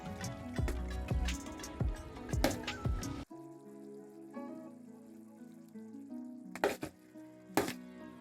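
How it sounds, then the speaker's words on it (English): Tin fish chutney stirred in a pan, with a few clattering spoon knocks and soft bubbling over a dense sizzle that drops away midway and then returns. "I'm just going to stir it up nicely"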